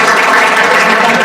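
A church congregation at a Spanish-language service claps loudly in a short, dense burst of applause with no voices over it.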